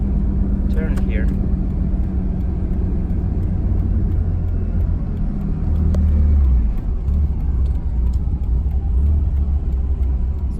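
A Mazda RX7 drives through a small city, with a steady low engine and road rumble heard from inside the car. A voice talks over it at times.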